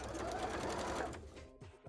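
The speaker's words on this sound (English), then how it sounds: "we will stitch this bit into the arm too" A sewing machine stitches fabric for a costume arm piece, whirring in a fast, dense run that stops after about a second, followed by a few quieter mechanical clicks.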